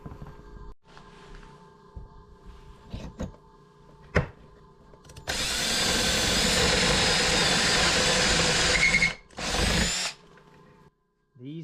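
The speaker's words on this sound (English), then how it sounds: "So I found where I want to drill the first hole" A power drill bores a hole into a guitar pedal board, starting with short taps and then a loud sustained whine for several seconds, a brief stop, and another short burst up close.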